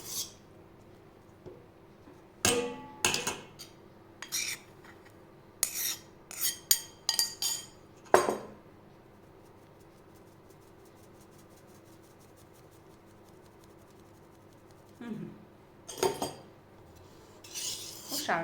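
A spoon or spatula scrapes and clinks against a mixing bowl while flour is folded into sponge cake batter, in scattered bursts of rasping strokes separated by quiet pauses, close and clear.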